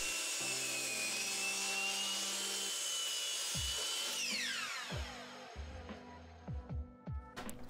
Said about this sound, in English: I used the jigsaw because I don't own a bandsaw, and a jigsaw worked pretty well to rough out the shape